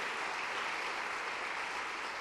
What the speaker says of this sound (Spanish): denle un aplauso fuerte a Jesucristo